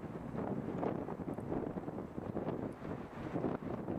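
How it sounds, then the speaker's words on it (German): Gusty cold wind on a mountain ridge in the Niedere Tauern near Mosermandl, loud buffeting rumble against the microphone that swells and eases continuously. "Der Wind ist jetzt ziemlich böig und kalt."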